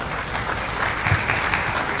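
An audience claps loudly after a solo theatre performance, a thick continuous burst of applause with a few louder individual claps near the middle.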